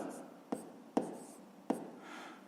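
Pen or pencil writing by hand on paper during a fifth-grade math exercise, a soft continuous scratch with three sharp taps as strokes land, close and quiet with no talk.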